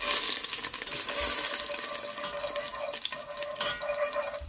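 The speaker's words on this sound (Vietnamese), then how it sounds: "Mình cho cái chảo dầu nóng đó. Rồi xong cái mình cho miếng đường vô để mình thắng cho nó có cái màu caramel." Sugar sizzles and caramelizes in hot oil in a pan for Vietnamese caramelized chicken, a steady, close frying hiss with faint stirring scrapes and no voices.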